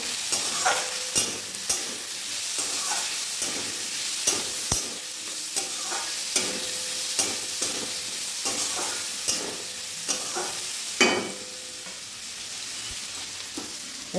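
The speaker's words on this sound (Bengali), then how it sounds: "ভালো করে একবার কষিয়ে নেবো" Vegetables sauté with sugar and a little oil in a kadai, a continuous close sizzle broken by regular scraping stirs of the spatula, with no one talking.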